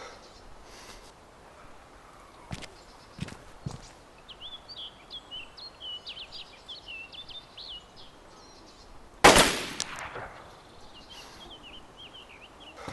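A Blaze rifle in DayZ fires a single loud, sharp shot about two-thirds through, with a ringing tail, amid a quiet outdoor scene with birdsong and a few soft earlier clicks.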